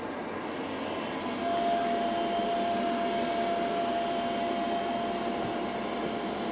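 A Foxalien 1.5 kW VFD spindle runs at 3,000 RPM with a steady broadband whir and a thin sustained whine, rising slightly in level after a second and holding constant without speech.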